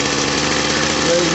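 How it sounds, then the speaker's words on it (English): A RedMax GZ23N edger's small two-stroke engine idles a little high with its blade still spinning, a loud, steady buzzing drone that stays even and close throughout. "Now it's idling a little high, the blade's still spinning"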